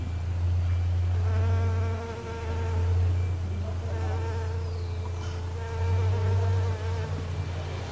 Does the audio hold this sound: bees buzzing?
yes